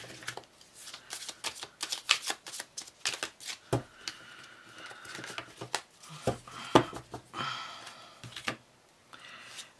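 Tarot cards being shuffled and handled up close, a run of quick irregular riffles, slaps and soft flicks, fairly quiet, with no talking.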